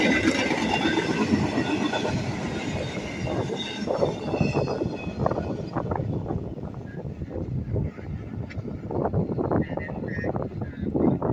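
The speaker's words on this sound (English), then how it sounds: "It is a Canadian Pacific train running on the CSX" A Canadian Pacific freight train rolls past on CSX track, a steady loud rumble of railcars with wheel squeal and scattered clanking throughout, no talk over it.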